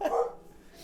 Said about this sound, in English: we got a dog call